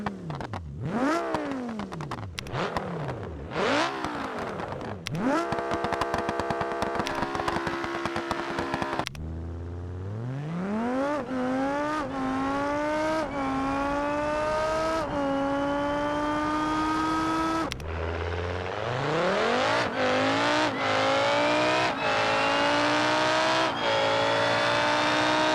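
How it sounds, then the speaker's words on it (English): French race car in BeamNG Drive with a motorsport exhaust, revving hard through repeated rising gear pulls, sharp upshifts and bursts of throttle, loud and close throughout with no talk. "the French race car also gets a brand new motorsport exhaust sound"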